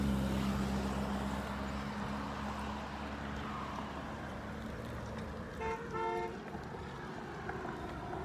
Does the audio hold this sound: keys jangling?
no